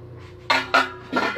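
Metal cooking pots clanking while a big pile of dishes is washed, three sharp close knocks and clinks in quick succession over a quiet background.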